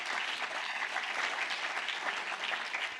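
An audience at an information evening claps steadily for about three seconds, a dense, even patter of many hands.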